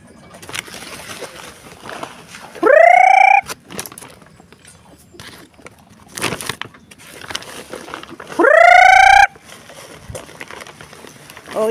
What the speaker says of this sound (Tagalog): Papatokain din po natin ang manok.